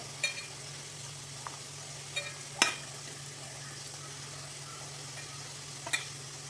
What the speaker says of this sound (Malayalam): ഇനി നമ്മളതിക്ക് ചിക്കൻ ഇട്ട് കൊടുക്കുക.